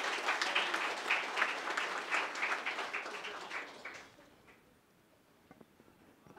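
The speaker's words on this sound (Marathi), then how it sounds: "तिच्यासाठी एकदा टाळ्यांचा कडकडाट केला." An audience at a book launch event gives a burst of rhythmic, moderately loud applause that fades out after about four seconds, leaving a near-silent room with a few faint taps.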